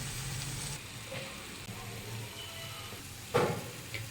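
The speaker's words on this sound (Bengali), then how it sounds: "আমি পেঁয়াজটা দিয়ে দিচ্ছি তেলে পেঁয়াজটা ভেজে নেব ভালো করে" Onion sizzles in hot oil in a home kitchen, a soft uneven frying hiss with a sharper sizzling burst near the end, no voices.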